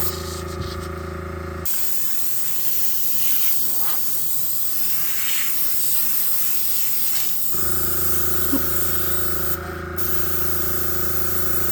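An airbrush set to low air pressure spraying liquid watercolour gives a steady soft hiss for several seconds, framed before and after by a constant mechanical hum, with no talking.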